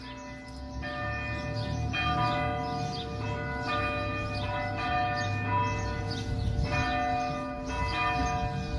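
Sunday morning church bells peal continuously in overlapping, ringing strokes, resonant and moderately distant, with a low background rumble.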